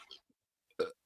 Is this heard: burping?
yes